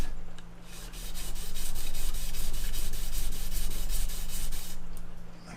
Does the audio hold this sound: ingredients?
no